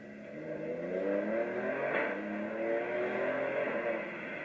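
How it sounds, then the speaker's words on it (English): A tuned 560 hp Alfa Romeo Stelvio engine revs from inside the cabin, its pitch climbing and dipping in smooth sweeps with a rasp at the peak, loud and steady with no talking. "you get this really awesome little rev limiter, and the sounds this thing produces are just magnificent"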